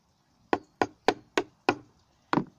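Hammer knocking a screwdriver into a plastic cola bottle to punch holes, five sharp close taps at a steady pace followed by a final stronger knock after a brief gap, with no talk.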